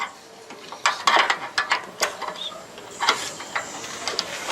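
A fastening on top of a roof tile is tightened for a solar panel mount, giving a series of close, sharp metallic clicks and ratcheting taps in irregular bursts over a faint background hum.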